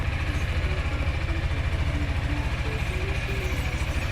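A Yamaha Tricity 300 scooter engine idles steadily with a fast, even putter and low rumble that holds constant throughout.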